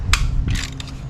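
Wrench ratcheting on a bolt during tire and cable work: a few short, close metallic clicks and a brief scraping burst over a low rumble, with no talk.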